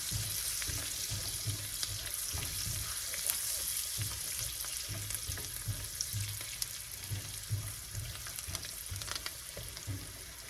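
Rib eye steak frying in a pan with golden-browned garlic on new cookware, a loud continuous sizzle with crackling spits and occasional stirring clatter, close up.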